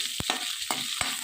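Onion fries in oil over a high flame, a bright steady sizzle broken by three quick knocks or scrapes of stirring, close up with no speech.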